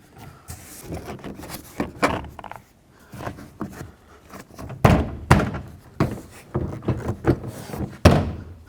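Chevy Silverado (2007-14) interior door panel tapped into place by hand, a series of dull plastic thunks and knocks in irregular bursts, close and fairly loud, with no talk.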